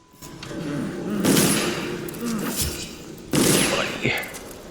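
Two loud, sharp bursts of gunfire ring out in the stealth action game Dishonored, each one abrupt and reverberant, spaced about two seconds apart, with no one talking.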